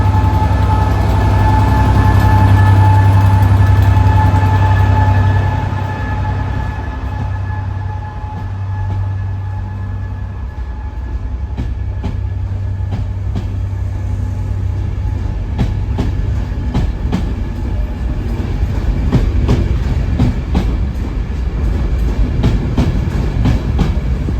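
A heavy diesel engine of a Class 67 locomotive, 67029, drones low as it hauls a black Transport for Wales passenger train away from Shrewsbury, building into rhythmic clickety-clack of wheels over rail joints, fairly close and loud throughout.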